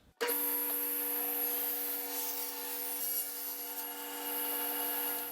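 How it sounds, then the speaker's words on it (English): A Jet 18-36 drum sander takes stock down to exact width and thickness: the sander switches on with a sudden start, then holds a loud, steady high-pitched whine with a sustained rushing abrasive hiss as the wood feeds through, no talking. "I'll go to the drum sander to bring the material down to an exact width and thickness, and also remove any blade marks or burn marks"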